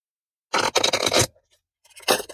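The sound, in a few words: shuffling a deck of cards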